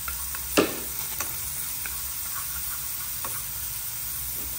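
Vegetarian king oyster mushrooms are stir-fried with lemongrass and chili in a hot pan, giving a steady close sizzle broken by a few sharp clinks and scrapes of stirring.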